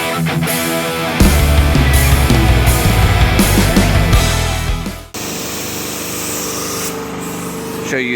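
Continuous hissing spray from a spray gun applying 2K high-build primer, steady and close, with a brief pause partway before the spray resumes.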